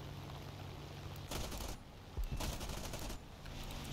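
Aircraft machine guns fire in War Thunder during a US air battle, two sustained dense bursts of roughly half a second each over a steady engine drone.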